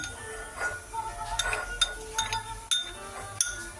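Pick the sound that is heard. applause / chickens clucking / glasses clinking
glasses clinking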